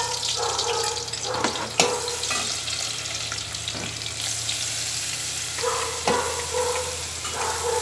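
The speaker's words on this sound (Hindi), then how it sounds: "कूटा हुआ गार्लिक पेस्ट, उसे आप गरम तेल में" Crushed garlic paste sizzles and fries in hot oil for a spinach dry curry, a steady crackling hiss with occasional clinks and stirring scrapes close by.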